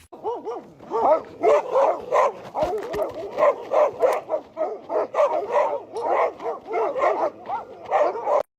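A dog barks close and loud in a rapid, continuous series of sharp barks and yips with little pause between them.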